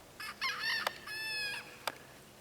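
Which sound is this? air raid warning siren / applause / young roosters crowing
young roosters crowing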